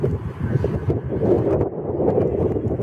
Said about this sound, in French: Désolé pour le vent, c'est venteux.